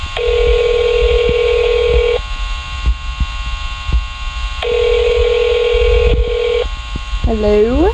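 A telephone in the Roblox restaurant game The Diner Experience sounds two long steady electronic tones separated by a pause, loud and prominent over a low background rumble.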